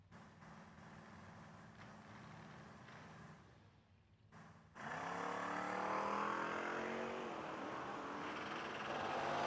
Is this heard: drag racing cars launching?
yes